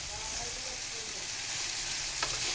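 Ridge gourd and onions frying in a pan for a Telugu-style stir-fry, giving a steady soft sizzle with one brief stirring scrape near the end.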